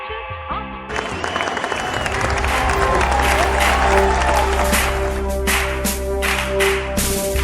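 An audience at a school annual day celebration breaks into loud, sustained applause that continues throughout, dense clapping with some crowd noise and music underneath.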